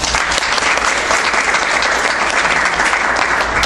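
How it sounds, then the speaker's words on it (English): A room of business networking members at a BNI Pinnacle meeting applauds in a loud, dense round of clapping that runs steadily for several seconds, close and full, with no talk over it. "Round of applause for Cy."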